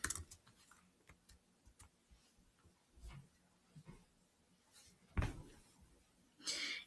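Light keyboard typing on a computer, a scattered run of soft, quick key taps and clicks, faint and close, ending with a few louder clicks.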